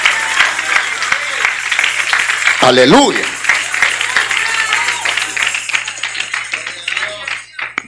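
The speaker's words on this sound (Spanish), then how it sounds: "Dele un aplauso de alabanza al Señor." A church congregation applauds in praise of the Lord during a sermon, a loud wash of clapping with sharp taps running throughout while a voice speaks and calls out over it.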